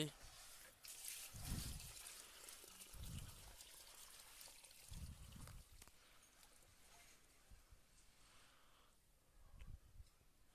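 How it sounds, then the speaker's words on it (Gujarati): Water is poured slowly around a papaya plant's roots, making a soft, faint trickle with a few dull thuds and light handling noises. "ચાલો આપણે પાણી પાઈએ"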